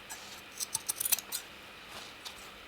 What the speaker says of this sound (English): I think I'll trim that down a bit as well